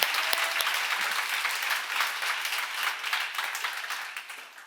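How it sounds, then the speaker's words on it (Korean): A church congregation bursts into applause during a seminar sermon, with dense, lively clapping that stays strong before tapering off at the close. "다 박수를 보내야 됩니다."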